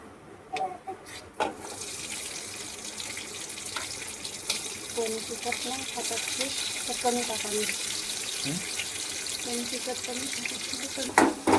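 Cumin seeds and green chillies hit hot oil in a home kitchen, setting off a sudden steady hissing sizzle that carries on throughout, with faint voices underneath.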